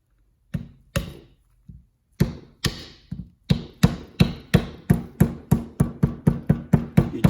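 A small hammer or mallet driving a wheel bearing race into a hub, a series of sharp metallic knocks, slow and sparse at first, then settling into a quick, steady rhythm of close, evenly spaced blows.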